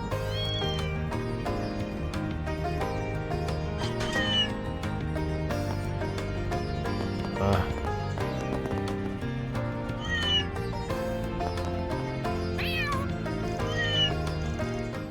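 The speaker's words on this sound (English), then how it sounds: "That's a lot of cats." Many cats in Trails Beyond the Horizon meow and caterwaul over and over, overlapping with one another above continuous game music.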